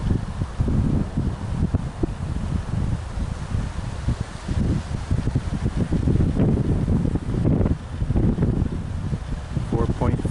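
Wind gusts buffet the microphone beside a small yin-yang style vertical axis wind turbine outdoors, a steady rushing roar that swells and dips, with no speech.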